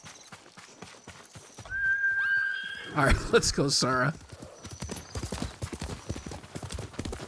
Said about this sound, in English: I can definitely tell that my horse is coming from the left side